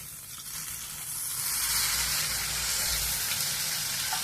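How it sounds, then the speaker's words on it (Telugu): Tamarind juice poured into a simmering drumstick and egg curry, setting off a steady broadband sizzle that swells and stays loud with a low bubbling underneath, no voices. "ఇప్పుడు కొంచెం చింతపండు రసము కొద్దిగా వేస్తున్నాను"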